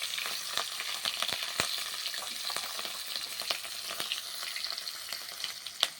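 Green chillies and black cumin seeds crackle and spit in hot fish oil, a steady close broadband sizzle with scattered sharp pops throughout.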